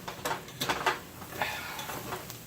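Spoon stirring seasoning into cheesy potatoes in a pot, a few quick scraping and clinking strokes close up, with no talking.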